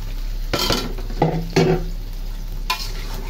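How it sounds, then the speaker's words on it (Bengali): Lemon-and-salt marinated meat frying in hot oil with ginger, garlic and garam masala, a steady sizzle broken by a few sharp scrapes and clinks of a spatula against the pan, no talking. "এখন এই আদা রসুনের সাথে মাংসটা একটু ভাজা ভাজা হবে, আদা রসুন তেল গরম মশলার সাথে।"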